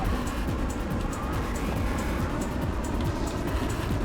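Twin helicopter engines on the back of a custom flying craft in the game Trailmakers give a steady, loud, dense drone with a constant roar and no speech.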